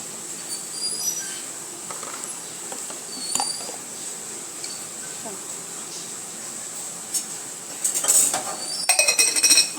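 Ground cashew and almond powder is transferred into a dish while making sing pak: faint, scattered clinks of a utensil against the dish over a low room hush, with a denser cluster of clinks near the end.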